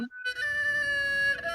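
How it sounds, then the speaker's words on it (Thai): A Thai saw duang, a two-string bowed fiddle, plays one sustained, slightly wavering note close up after a brief opening sound, carrying steadily and clearly to the end with no one talking over it. "อ่ะนี่คือเสียงของซอด้วงนะคะ"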